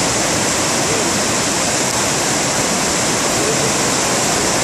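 The Sumiyoshi River, a Class A river swollen by a typhoon's heavy rain, roars in a loud, constant rush of floodwater, close and unbroken throughout.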